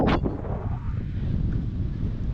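Wind buffets the microphone at Changi Beach during a wingfoil race, a steady low rumbling roar that carries through the whole stretch, with a brief sharper gust at the start.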